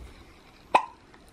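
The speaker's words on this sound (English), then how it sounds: "Have you got hiccups, little man?" A baby boy gives a single sharp hiccup, a short close jolt in an otherwise quiet room.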